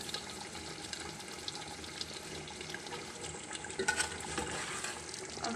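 Chicken curry sizzles and fries in a pan with oil and egg, a steady crackling hiss broken by occasional scraping stirs, close and moderate in level with no talking.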